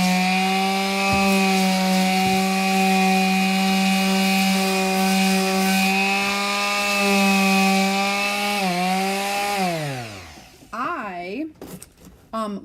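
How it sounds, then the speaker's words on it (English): A palm sander whines steadily on wood edges with a droning, harmonic buzz, then winds down and stops, leaving a few scraping handling noises. "I like to use that palm sander, and literally I just did the edges."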